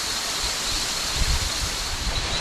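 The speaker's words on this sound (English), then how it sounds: "Look at this beautiful waterfall behind me." Maracas Waterfall in St. Joseph, Trinidad, roars loud and close as a dense, steady rush of falling water with no pauses.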